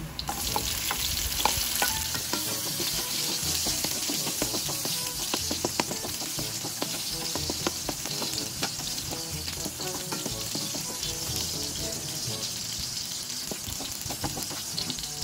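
Garlic sizzles and crackles steadily in a hot pan while being stirred, cooked for duck adobo in coconut milk; a loud, close, continuous frying hiss with scraping stirs throughout and no talking.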